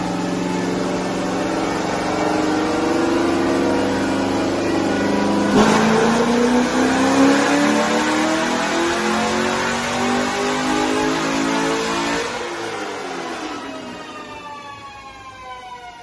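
A 2006 Corvette Z06 with a Lingenfelter 630 package, MSD intake and E85 fuel, revving hard on a dyno. Its engine note climbs steadily and loudly for about twelve seconds, then drops off as the throttle is released and the pitch falls away.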